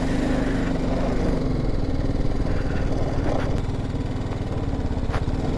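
A motorcycle engine idles steadily and close by, a loud, even mid-pitched putter while the bike is parked on a mountain route to Adi Kailash.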